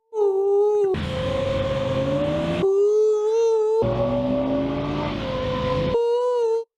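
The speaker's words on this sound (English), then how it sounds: "The car makes an owl noise. Yeah, it sounds like a whistling walrus going woohoo." A loud, steady owl-like hooting whistle with a wavering tone from a car exhaust, broken by two bursts of roaring engine noise, then the whistle returns on its own.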